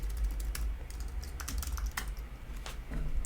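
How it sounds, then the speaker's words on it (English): Keys tapped on a computer keyboard in short, irregular bursts of clicks, fairly close and moderately quiet over a low steady hum, no voices. "So you literally type what the keyword is there."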